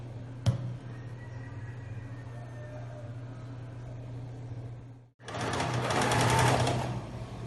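A sewing machine stitches felt with a backstitch. A steady low motor hum carries on for about five seconds, broken by a sharp click near the start, then cuts out and restarts as a louder, brighter run.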